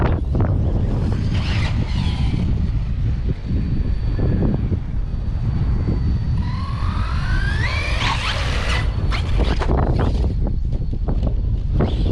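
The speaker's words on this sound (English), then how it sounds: "You guys can hear me over the wind right now." Strong wind buffets the microphone outdoors at an RC truck run, a steady low roar with gusty bursts and a passing high motor whine partway through.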